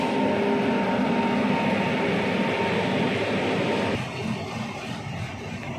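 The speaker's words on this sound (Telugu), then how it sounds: "ఈ ప్లాట్ఫామ్ నెంబర్ 5 దగ్గర ఒక ట్రైన్ ఆగుంది." A train halted at platform 5 of Charlapalli railway station, giving off a steady, loud mechanical rumble and hum, likely idling locomotive or coach equipment, that eases slightly toward the end, with no voices.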